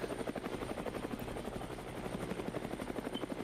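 Helicopter rotors thump in a fast, steady rhythm inside a video game, a continuous close whirring chop that lasts throughout with no talk over it.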